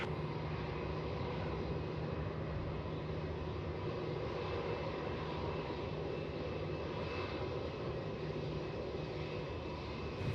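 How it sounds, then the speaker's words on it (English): A Velocity aircraft approaches to land on runway 16 at Melbourne Airport, heard as a faint, steady, distant engine roar that holds evenly for about ten seconds with no speech. "We've got Velocity coming to land on runway 16 now"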